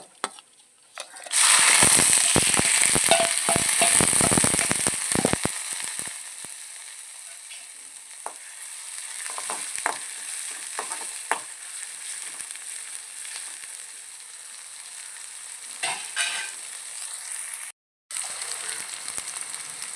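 Ginger, garlic and green chili hit hot oil in a pan after mustard seeds, setting off a loud burst of sizzling and frying that gradually settles into a steady, quieter crackle, with faint scraping now and then.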